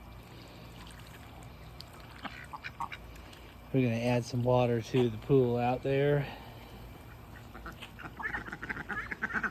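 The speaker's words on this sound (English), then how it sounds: "the ducks just go crazy for that too." A burst of loud, rhythmic duck quacking rises close by, several calls in a row, after someone speaks briefly over outdoor background noise.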